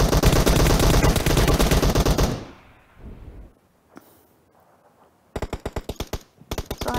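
Loud, close automatic gunfire in PUBG, a dense sustained burst that cuts off and is followed by a quiet pause, then two shorter rapid bursts.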